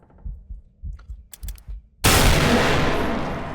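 A single loud, sharp gunshot rings out in a video game headshot, preceded by a few faint clicks and soft low thumps, with a long decaying boom after the blast.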